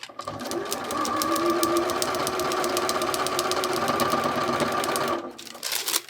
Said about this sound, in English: We're gonna sew across here.